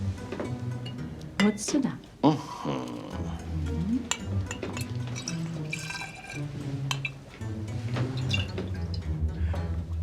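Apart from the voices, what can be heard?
liquid being poured out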